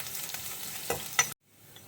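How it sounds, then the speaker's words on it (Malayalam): Chopped ginger and garlic sautéing in oil for pineapple pickle, a soft steady sizzle with a couple of stirring scrapes before it cuts off abruptly. "അതിൻ്റെ പച്ച മണം മാറുന്ന വരെ ഒന്ന് വഴറ്റി കൊടുക്കണം."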